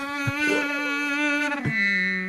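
A steady, strongly tonal buzz, likened to a thousand bees, drones loudly and continuously for about two seconds, with a couple of brief soft thumps and no talking.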